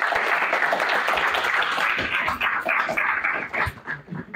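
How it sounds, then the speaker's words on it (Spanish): A dense burst of applause from a crowd, loud at first and thinning out toward the end. "reciban con un fuerte aplauso"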